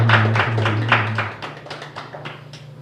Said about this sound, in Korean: 하나님께 영광 박수 드리겠습니다